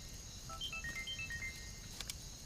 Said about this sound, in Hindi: लो नजीब का फोन है।